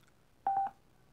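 A Comiso M20 bamboo-finish 30W stereo Bluetooth speaker gives one short beeping pairing tone, a quick electronic chirp standing out clearly against near silence.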